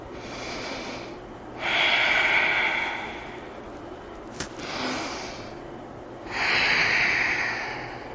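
Slow, deep breathing during a yoga session, two long audible inhales through the nose separated by softer exhales and a brief click, close and fairly loud, with no speech.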